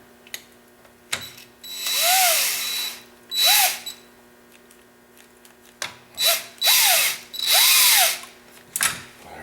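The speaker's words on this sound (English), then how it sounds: "what I did was put an adapter in my drill" A power drill whirs in several short bursts, each winding up and down in pitch, turning a Honda Rancher 350 ATV's 3-speed transmission in first gear through an adapter, with quiet pauses between and no talking.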